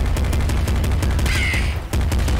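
Raven enemies in the Nuclear Throne video game caw with a harsh, repeated croak amid a rapid rattle of gunfire, all loud and dense throughout, with one brief gap near the end.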